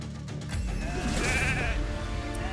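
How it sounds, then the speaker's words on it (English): Sheep bleating in a video game sheep attack: a loud, wavering bleat that swells in the middle over a thick, busy game soundscape, with no talking. "massive sheep attack coming in. Sheep nukes. Ooh, sheep nukes."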